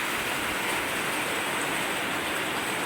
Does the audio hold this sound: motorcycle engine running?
no